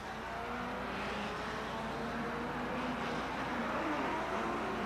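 1957 Formula 1 race cars, including Vanwalls, roar past at the German Grand Prix in a steady, dense engine drone that swells slightly toward the end, with no voices heard.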